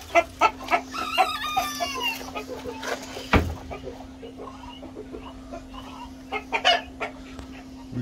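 Modern Game chickens cluck in short, sharp bursts nearby while a rooster crows once in a long rising call, with a steady hum running underneath the farmyard sounds.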